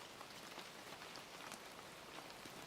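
Steady rain falls outside, a soft, even patter and hiss that holds unbroken and fairly faint throughout, with no voices.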